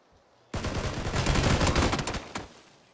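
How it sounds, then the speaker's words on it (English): Sustained gunfire in PlayerUnknown's Battlegrounds, a dense burst of rapid shots lasting about two seconds, loud and close, then cutting off. "They're still shooting at me."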